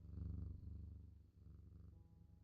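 A contented cat purrs steadily and softly up close, a low continuous rumbling with a slight rise and fall as it rubs its head, with no voices.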